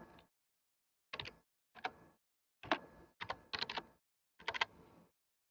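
A command is typed on a computer keyboard in the Galileo reservation system. Quiet, close key clicks come in short separate bursts with gaps of silence between them.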